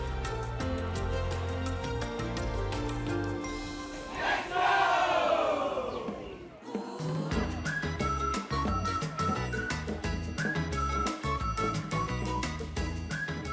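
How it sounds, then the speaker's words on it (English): Crowds at dragon boat races in Aberdeen harbour, a loud, dense roar of cheering and shouting over steady rhythmic drumming, with a brief whistle-like swell in the middle, continuous throughout. "As the sound of energetic drumming and cheering crowds filled the air, the dragon boats sped off."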